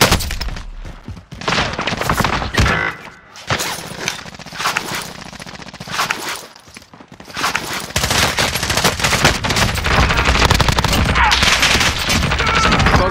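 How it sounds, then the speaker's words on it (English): Gunfire in Call of Duty Modern Warfare: dense, loud machine-gun bursts and rapid shots, near and sustained, with brief lulls between volleys. "Getting shot at ya."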